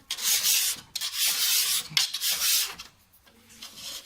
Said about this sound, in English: I need to go over a little way for it to start scraping.